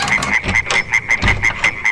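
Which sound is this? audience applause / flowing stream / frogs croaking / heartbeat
frogs croaking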